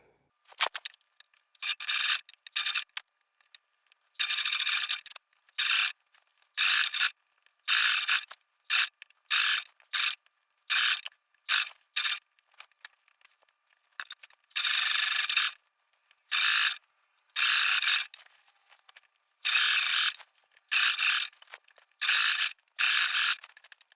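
A sewing machine stitching over a folded fabric edge on a woven dress, running in repeated short bursts with quiet pauses between, mechanical and fairly close.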